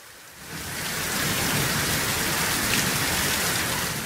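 Heavy, steady rain pours down in Kanyakumari district for hours on end, a dense continuous roar of downpour with a low thunder rumble folded into it, loud and unbroken throughout, with no voices.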